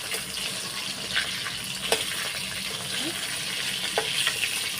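Pieces of fish fry in hot oil with a continuous close sizzle, broken by a few soft clicks and scrapes as they are turned over in the pan.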